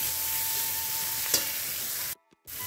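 Pea greens frying in a pan with bori lentil dumplings give off a steady, close sizzle as they are stirred. A brief scrape sounds partway through, and the sound cuts out to silence for a moment near the end before returning.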